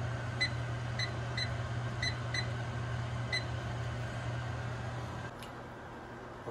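Kitchen timer being set to fifteen minutes while onions simmer for French onion soup, giving a string of short, fairly faint electronic beeps spaced unevenly over a steady low hum of kitchen background noise.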